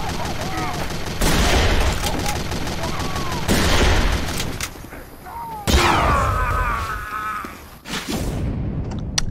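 Bazaar Bargain sniper rifle fire in a video game: several loud, booming shots spaced a couple of seconds apart, each with a rolling tail, mixed with other in-game effects.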